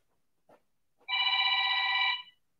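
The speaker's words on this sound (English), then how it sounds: "Please stop that phone from ringing immediately." A telephone bell rings once in a loud, steady burst of about a second, preceded by faint knocks, in a quiet indoor space with no talking.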